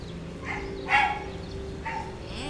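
A dog barks a few times at medium distance, short yelps spaced apart over steady low background hum.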